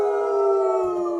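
A human voice imitates a coyote howl in one loud, sustained, wavering tone, sung as part of a song about animals.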